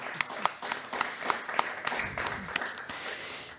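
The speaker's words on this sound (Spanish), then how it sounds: "También la recibimos con un caluroso aplauso" Scattered, uneven clapping from a small audience at a book presentation, welcoming a guest speaker; individual sharp claps stand out over a soft room murmur, fairly close and moderate in level.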